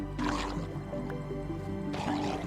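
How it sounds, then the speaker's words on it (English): An underwater conduit in Minecraft gives off a steady bubbling, gurgling watery drone that swells noticeably near the start and again toward the end, heard alone without talk. "That's a conduit doing its thing."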